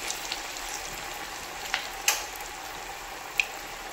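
Corn pakoras frying in hot oil in a kadai, a soft continuous sizzle with a few sharp pops and crackles standing out.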